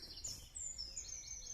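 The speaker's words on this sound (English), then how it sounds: "Birds chirping." Faint, high birds chirp and twitter in a quiet outdoor setting, short thin calls repeating against soft background hiss.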